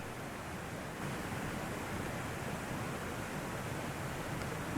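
Water cascading down a slope across the way on a flooded country path after heavy rain, heard as a steady, dense broadband rush with no change in level and no voices.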